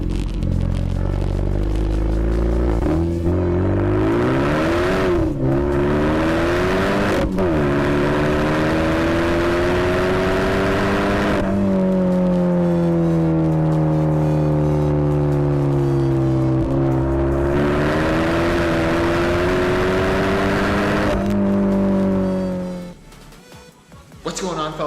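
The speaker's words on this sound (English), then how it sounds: "crossing into the Mexican border now, where we're about to venture on some spirited driving." A car engine accelerates during spirited driving near the Mexican border, rising and falling through gear changes with a loud, steady drone that climbs in pitch before dropping away near the end.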